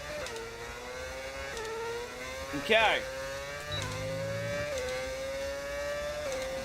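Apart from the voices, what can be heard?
modded Benetton F1 car engine in F1 25 video game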